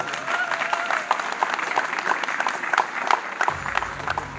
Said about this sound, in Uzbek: 32-maktab jamoasiga alohida bitta olqishlar.